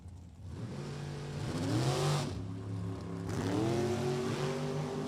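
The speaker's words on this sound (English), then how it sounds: "now is in the senior dragster class up against Tom Slater" Senior dragster race cars at Lebanon Valley Dragway, engines roaring and rising in pitch as they accelerate down the strip, loud and continuous with a second surge of revving partway through.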